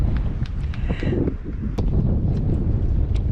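Steady wind buffets the microphone with a low, constant rumble on the coast of Magnetic Island, broken by a few faint knocks and taps; nobody speaks.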